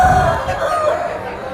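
A country rooster at a Sunday village poultry market in Vizianagaram district lets out a short, loud crow close by, a single drawn-out call with background crowd noise.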